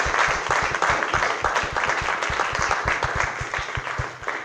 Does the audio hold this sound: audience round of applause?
yes